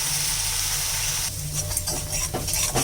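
Ground cumin, chili, coriander and turmeric fry in a pan for katla fish kalia, a soft hiss that breaks into sharper sizzling bursts and stirring near the end, with no talking.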